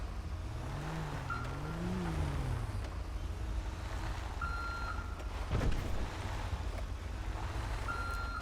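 A KSRTC bus in GTA 5 reverses to make a U-turn. A steady, droning engine hums underneath, and a reversing beeper sounds in short, intermittent tones as the engine pitch rises and falls, followed by a brief louder thump.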